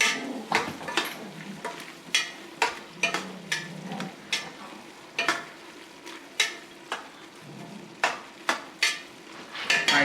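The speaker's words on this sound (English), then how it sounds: "Stir it up." Soup with sherry being stirred in a large 12-quart pot, with a steady run of sharp, close spoon knocks and scrapes against the pot in an uneven rhythm and no talking.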